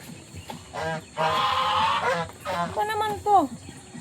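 Geese honking on a farm, a mix of loud nasal honks and cackles in bursts, with a person talking between the calls.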